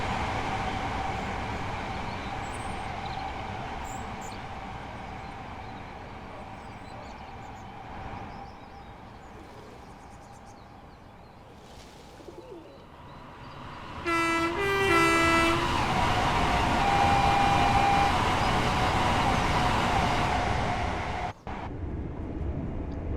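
An LNER Class 801 Azuma train in the Train Sim World 4 game on the East Coast Main Line: a low rolling rumble builds as the train nears, then a loud two-tone horn sounds and the noise swells as it passes close by.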